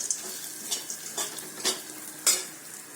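Cashews being dry-roasted in a pan for date laddoos, with soft sizzling and about five distinct scraping stirs spaced out over the few seconds, close and fairly quiet.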